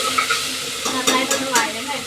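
Ingredients for dal khichdi sauté in a pan with a close, crackling sizzle, punctuated by a few stirring scrapes that bring short surges of hiss.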